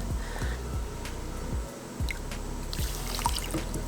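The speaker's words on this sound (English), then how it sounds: "So I'm also going to need a ½ cup of soy sauce." Soy sauce pours into a measuring cup in a thin, close trickle with small dripping splashes, quiet and steady over a few seconds.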